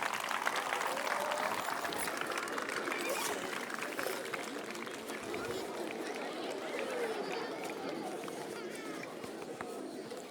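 Audience at a drug-detection dog demonstration by the Guardia di Finanza clapping outdoors, a dense crackle of many hands lasting several seconds with crowd chatter mixed in.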